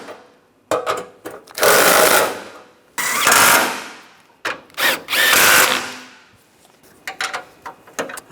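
A power tool drives and tightens the radiator mounting bolts on a 2010–2016 Cadillac SRX, firing in several short, loud bursts with clicks and clanks of handling between them and no talking.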